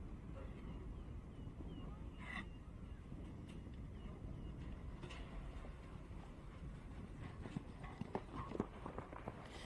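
Horse hooves from Troy Palmer's own horse, Totem, at a campdraft competition, a steady busy patter of hoofbeats over a broad rumbling background, with no clear voices.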